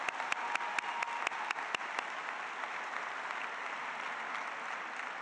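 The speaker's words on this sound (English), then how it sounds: "Please join me in another round of applause for the Highland Park High School Orchestra" A graduation crowd applauds the Highland Park High School Orchestra; a few sharp, close individual claps stand out at first, then the clapping settles into a steady, even wash that continues to the end.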